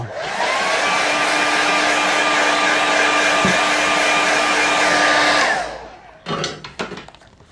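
A hair dryer blows loud and steady for about five seconds to dry a watercolour painting, then switches off, followed by a few brief clattering knocks.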